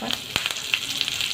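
Mustard seeds and curry leaves crackle in hot oil in a pan while a masala dosa dish is being made, sharp pops standing out over a steady close sizzle with no talk.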